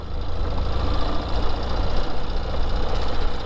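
A Ural sidecar motorcycle engine rumbles steadily on a Trans-European Trail road in Finland, a continuous, close, low chugging drone with no talking.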